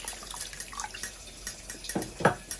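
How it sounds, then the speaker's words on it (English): Water splashes into a pot of cooking Nigerian jollof rice, a quiet trickle with soft drips and a couple of brief louder pours near the end. "So it looks like I need to add a bit of water now."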